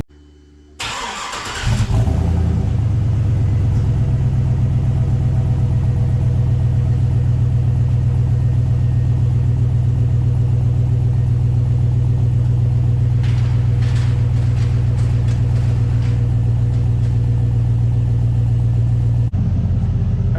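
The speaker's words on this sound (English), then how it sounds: "Then we'll give it a couple revs." A car fitted with a Total Flow aftermarket muffler starts up and settles into a loud, deep, steady exhaust rumble close by, with a few brief revs lifting the sound late on before it drops back.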